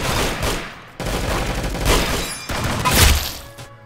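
Two heavy blasts from a sawed-off double-barrel slug shotgun in the game Arsenal ring out about a second and a half apart, each a loud, full burst with a booming tail, with no talking.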